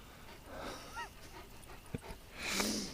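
A dog pants and gives a few short whimpers and yips, close by, with a brief higher squeal near the end.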